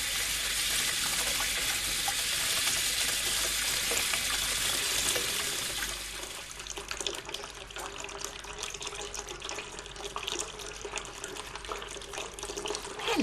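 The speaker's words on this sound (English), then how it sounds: "It splashes and sloshes. It pours and flows, glugs and drips and overflows." Running water pours and splashes loudly and steadily, like a gushing tap, then drops to a lighter, uneven trickle with scattered splashes and drips for the rest.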